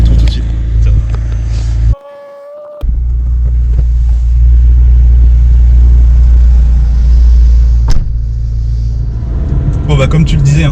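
A McLaren 720S's engine rumbles loud and close while the car is driven, with a strong low drone that cuts out briefly and then returns. People speak nearby.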